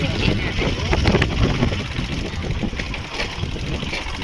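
A motorcycle engine runs steadily on a farm trip, a rough rumbling drone mixed with wind buffeting on the microphone, while someone talks over it.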